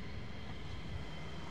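A DC-9 airliner passing with its landing gear down at RAF Lakenheath, a faint, steady, distant jet rumble.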